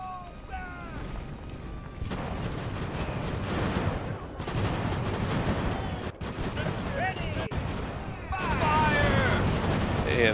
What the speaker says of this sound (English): And hopefully my naval gunners can hit more Brits than Americans with this salvo